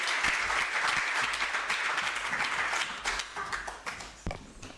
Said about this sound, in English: Another round of applause for my colleagues